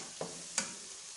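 Masala frying in a pan for fish curry, heard as a soft, quiet sizzle with two brief spatula scrapes, no voices.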